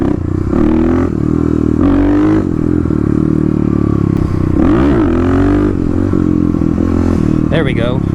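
A Harley-Davidson Street Rod 750 motorcycle ridden through wheelies, its engine revving loud and close in repeated surges and drops, with a voice talking over parts of it.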